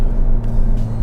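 A loud Porsche engine drones steadily at high revs under hard acceleration, a sustained throaty hum with no voices.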